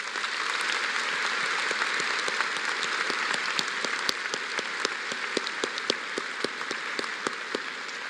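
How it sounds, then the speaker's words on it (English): A graduation ceremony crowd at a high school applauds the educators: a broad, continuous wash of many hands clapping holds steady for about eight seconds, sharp individual claps popping out near the front. "Please take a moment and give the fine educators a round of applause."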